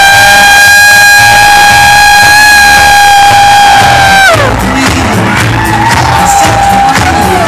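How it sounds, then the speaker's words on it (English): A loud crowd at a weekend training event cheers and whoops, first beneath a blaring, sustained horn-like tone that slides down and cuts off, then as an open, rowdy roar on its own. "applause for your co-trainer this weekend"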